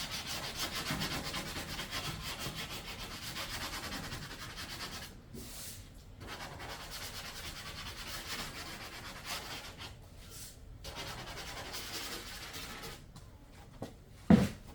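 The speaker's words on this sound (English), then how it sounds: "Alright, so we're going to scuff this up." Steady scuffing of a Mustang car body panel to prep it for paint, a continuous close rasping rub with a few brief pauses and a sharp knock near the end.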